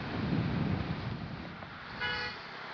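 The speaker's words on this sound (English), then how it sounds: "You ain't honking at me." A car horn sounds once in street traffic, a short moderate toot heard over wind buffeting the microphone and road noise.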